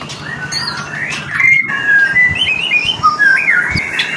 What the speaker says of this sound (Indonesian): Kita pantau ini burung murai buat digantangan lagi mas.